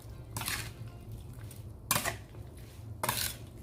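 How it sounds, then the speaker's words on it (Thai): A fish-strip salad with blanched shrimp being tossed in a bowl, with three distinct clinking, scraping strokes of utensils against the bowl, close and spaced about a second apart. "ตามด้วยกุ้งสดที่เราลวกไว้นะคะ คลุกเคล้าทุกอย่างให้เข้ากันดีเลยค่ะ"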